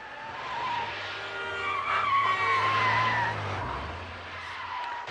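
Tires squeal in a long, loud skid during a staged crash scene from the film Crash, with a low engine rumble underneath, the screech rising and fading over several seconds with no voices.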